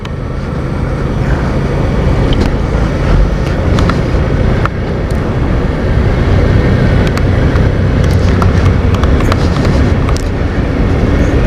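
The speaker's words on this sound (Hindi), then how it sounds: "तो स्मूथ चलने लगी है बाइक" A motorcycle, freshly greased and running smoothly, cruises along a road on a solo ride toward Mustang and Muktinath. Loud, constant engine drone mixes with heavy wind rush throughout, and no voices are heard.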